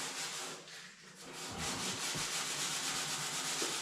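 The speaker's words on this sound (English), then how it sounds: "I really don't want to sand through anywhere." Close-up rasping of sandpaper rubbed over the painted fender of a Ford F-350 truck, in continuous scratchy strokes that swell and steady after a brief lull, with no talk.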